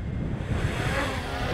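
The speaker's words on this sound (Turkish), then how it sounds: "Yani çok şiddetli değil ama rüzgar var." Steady wind buffets the microphone outdoors at a tulip field in Muş as a DJI Mini 3 Pro drone takes off, a continuous low rumbling roar with no clear motor whine.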